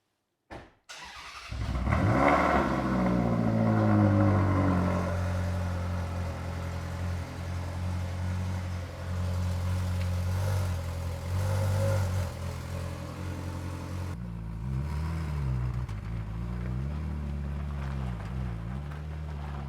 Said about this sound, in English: you've heard the cold start